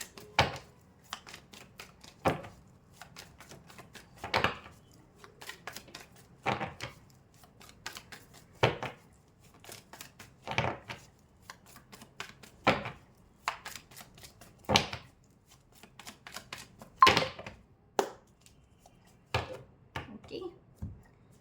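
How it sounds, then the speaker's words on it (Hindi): Tarot cards being shuffled, soft riffling bursts repeating at a steady rhythm of roughly every two seconds, close up and fairly quiet, with no voices. "सो मैं थोड़े कार्ड शफल कर लूँ यहाँ पर वर्गो"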